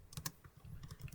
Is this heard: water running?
no